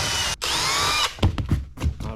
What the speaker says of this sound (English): it just asks to drill those 3 out to 9mm